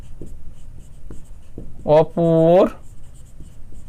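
Faint scratching of a pen writing on paper during a maths lesson, soft ticks running on either side of a short spoken word.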